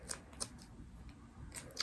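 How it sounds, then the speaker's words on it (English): Tim Holtz scissors snip through craft foam, a few crisp close cutting clicks in a quiet room. "with my Tim Holtz scissors because they do such a great job of cutting our foam here."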